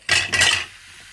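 Pieces of bottle gourd tipped into a pan for a prawn curry, a quick clatter of cut vegetable hitting metal followed by a soft, brief sizzle fading away, close and alone without talk.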